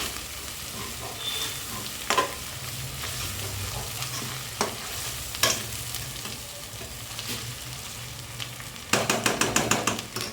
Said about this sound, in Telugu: అల్లం వేయంగానే కొంచెం మాడుతుంటుంది, చూసి వేపుకోండి.